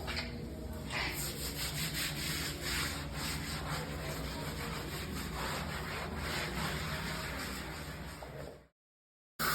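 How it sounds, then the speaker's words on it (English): Steady abrasive rubbing of steel wool scrubbing a shower floor, continuous and close at moderate level, stopping abruptly near the end. "To add the agitation, we can use the steel wool."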